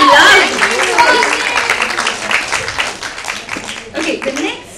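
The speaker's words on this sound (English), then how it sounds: "Give it a big round of applause." Audience applause at a Women's Day comedy show, a dense wash of clapping from a live crowd that fades gradually and thins out toward the end.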